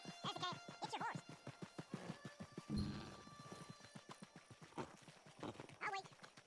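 Horse hooves clip-clopping in the video game Red Dead Redemption 2, a quick steady run of close hoofbeats with a brief whinny partway through and speech over the start.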